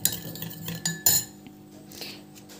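A spoon stirs lemon juice into a homemade face pack in a bowl, giving a few close, sharp clinks and scrapes against the bowl over a quiet background.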